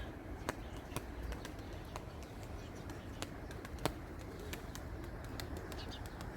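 Tumbling pigeons land outdoors after flight, with soft cooing and brief wing flutters over a low, steady background hum. The sounds stay faint and somewhat distant.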